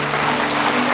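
A church congregation claps together, a dense, steady wash of applause over a sustained low hum, with no voices.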